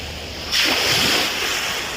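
Ocean waves at a seaside near a footbridge in Mahboula, a broad wash of surf that swells and holds steady over a couple of seconds, mixed with wind noise on the microphone.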